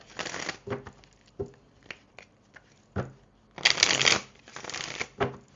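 Tarot cards are shuffled in quick riffling bursts and soft slaps, close and fairly quiet, with short pauses between handlings and louder flurries near the end.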